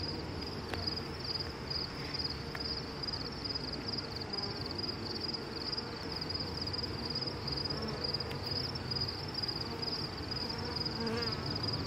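A dense, steady buzzing of many honey bees at a hive hums continuously and close by, an unbroken swarm drone with no voices.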